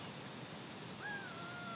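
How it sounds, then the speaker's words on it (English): A gull cries by a lake, a single faint, distant call heard over quiet outdoor ambience. "I listen for peace amongst the constant cries of gulls"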